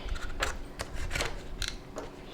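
Scissors snipping a houseplant in an indoor greenhouse cabinet, four or five crisp, separate cuts close to the listener, spaced irregularly over soft background noise.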